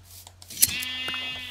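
A Minecraft sheep lets out a single wavering bleat near a sudden bright burst, set against a steady low hum and game ambience, with no talk over it.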